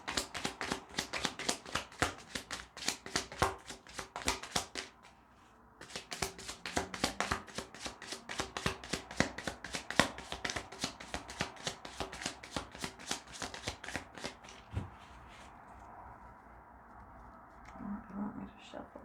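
A deck of cards is shuffled repeatedly in a tarot-style reading, with rapid riffling bursts of close, crisp flutters that pause briefly midway, then resume before thinning out near the end.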